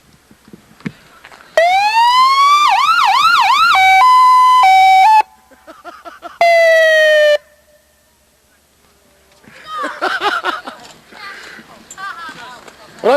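Loud wailing and yelping police siren tones from a car light bar sweep up and down in bursts, cutting off and restarting, followed by voices talking nearby.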